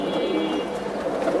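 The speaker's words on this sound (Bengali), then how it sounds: "এটা নাপ্তা কবুতর ভাই" Napta pigeons at a pigeon sale give a low, continuous cooing murmur that holds steady through the whole short stretch, close by and without any talk over it.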